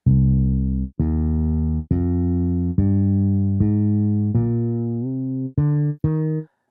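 A minor scale rises note by note on a bass synth in Maschine, eight sustained, rich tones each held about a second and cut off cleanly, loud and alone.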